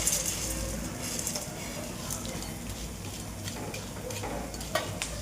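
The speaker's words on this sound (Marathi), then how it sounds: "वडे आपण आहे ना थोडे तेलामध्ये तळून घेऊ चांगले." Vadas frying in hot oil in a kitchen pan, a steady close sizzle with occasional stirring and utensil scrapes, running continuously without talk.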